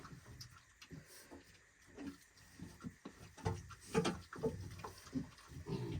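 A sow and her piglets grunt and oink in short irregular bursts, faint and close, with soft rustling and no talking.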